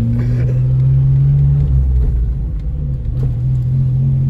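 A Geo Metro with a worn first gear driving on a road, its small engine droning in a loud, steady low rumble from inside the cabin, pitch shifting slightly midway as it changes speed, no talking.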